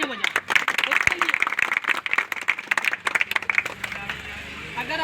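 Loud audience applause at a Shiksha Vikas Society second foundation day ceremony, dense clapping filling the clip with crowd voices and cheers mixed in, tapering slightly toward the end.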